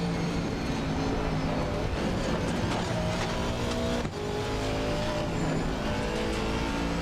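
Racing car engine in a driving video game on the Nordschleife, a steady loud droning roar held at high revs throughout, with a brief dip around a gear change.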